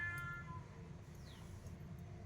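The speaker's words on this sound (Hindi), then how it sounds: "बिल्ली आके रो रहे" A cat meows softly a couple of times over a steady low hum, fairly quiet and close, with no talking.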